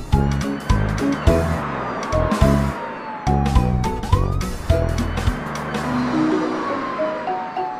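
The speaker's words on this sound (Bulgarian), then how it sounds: "Полицейска кола" Police car siren in a children's song, a short synthetic wail that rises and falls over bouncy music and percussion, loud and up front.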